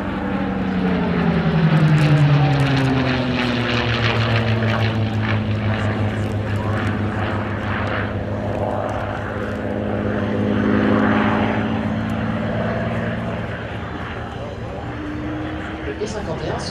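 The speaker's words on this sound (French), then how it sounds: "Le P-51 sera l'un des derniers Warbirds à avoir un moteur en V." A P-51 Mustang warbird's V-engine drones steadily and loudly at an air show, its pitch rising and falling slightly as it revs, with no talking.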